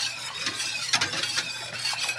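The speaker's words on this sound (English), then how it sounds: "I'm going to whisk that around." A whisk stirs redneck shotgun wedding soup in a pot, giving soft scraping and swishing strokes with a few brighter clinks against the metal, steady and close.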